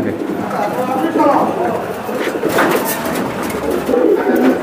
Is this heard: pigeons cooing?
yes